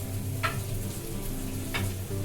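An egg fries in a pan in a home kitchen, a continuous moderate sizzle with a low hum beneath and two brief scraping stirs.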